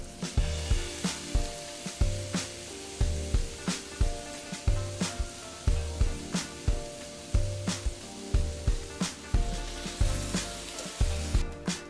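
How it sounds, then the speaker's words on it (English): Cabbage sizzling in a hot skillet as it is added a little at a time, with steady frying hiss and a regular series of scraping, stirring strokes, about two per second, close and moderately loud. "it's time to start adding it to the skillet a little bit at a time"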